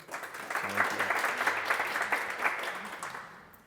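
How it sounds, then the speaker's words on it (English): Brief applause from a small group at a relaxed talk gathering, a few seconds of soft scattered clapping that swells and then fades, with faint voices beneath. "An applause for Paula, please"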